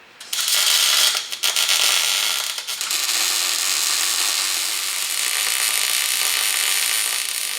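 Power window motor raising the glass in a 1934 Ford Coupe, a loud steady mechanical whir close by, with a few rattling clicks at the start before it settles into an even drone, no talk.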